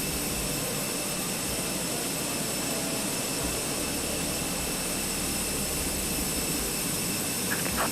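Airbus A320 jet engines hum in a steady, moderate drone during pushback in a flight simulator game, with no talking.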